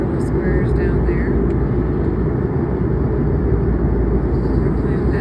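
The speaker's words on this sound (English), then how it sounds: "The plane has started to slow down." Steady, loud low rumble of an airplane cabin during descent, an unbroken engine and air drone filling the space, with faint voices now and then.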